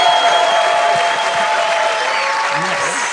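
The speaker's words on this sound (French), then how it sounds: "Bonne main d'applaudissements pour Vincent C." Audience applause for comedian Vincent C at a French stand-up show, a steady broadband wash of clapping lasting the whole stretch, with music tones underneath and a little crowd noise.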